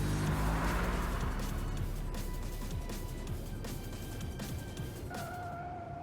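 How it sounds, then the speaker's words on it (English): In the video game Love and Deepspace, a car emerges from a tunnel and races through city streets, its engine roaring loudly and continuously with tire noise and a brief tonal whine near the end. "The car emerges from the tunnel and races through the streets of the killing zone."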